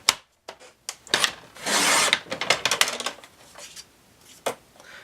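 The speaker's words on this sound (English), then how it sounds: "So I'm going to cut 1 inch off." A piece one inch long being cut off for a handmade medallion, heard as close rasping and rubbing strokes in irregular bursts with short pauses, one longer steady stroke near the middle, no talking.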